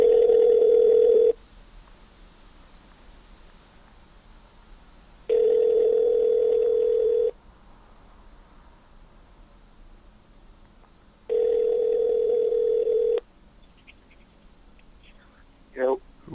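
Telephone ringback tone on an outgoing call, three long steady tones separated by silent gaps, clear and evenly spaced, followed by a brief sound at the end.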